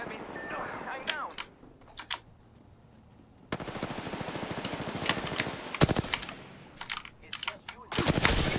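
Enemy gunfire rattles in quick bursts during an Apex Legends match, sharp clustered shots arriving in uneven volleys after a quieter stretch, with brief voice callouts between them.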